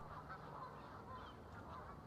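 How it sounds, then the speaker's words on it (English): Canada geese on the grounds and ponds of Craig Bay honk faintly and distantly in short repeated calls over a steady background hiss. "the incredible number of Canada geese that have invaded the grounds and ponds of Craig Bay"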